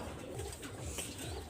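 A pair of pigeons of a flying breed coo softly at close range, low burbling calls repeating over a constant background hiss.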